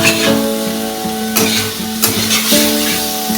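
Soybeans and paneer fry steadily in a pan over a medium flame, a close, continuous sizzle with a few sharper crackles and scraping stirs, and a faint tonal hum underneath.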